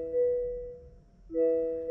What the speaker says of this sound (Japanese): バックギアに入れた音はこんな感じで、